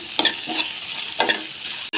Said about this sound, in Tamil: இதையும் போட்டு கொஞ்ச நேரம் நல்லா ஃப்ரை பண்ணிப்போம்.